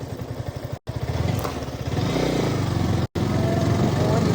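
A Yamaha R15 V4 155cc motorcycle engine runs close by with a steady, even pulse. The revs lift briefly mid-way, and two short breaks cut the sound.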